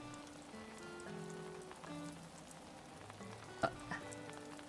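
Soft steady rain patters across a surface in Animal Crossing: New Horizons, a continuous wash of droplets beneath light game music with a couple of brief sharper ticks, no voices present.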